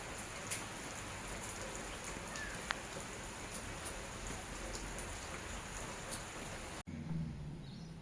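Evening rain falls in a steady, soft hiss, with a few faint patters on a surface. Near the end it cuts to a quieter, duller patch.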